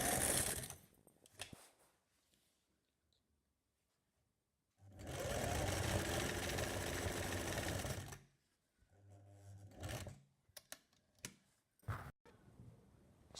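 Sewing machine stitching a pleat on cigarette trouser fabric, one loud sustained run of about three seconds close by, followed by short bursts and clicks, no talk.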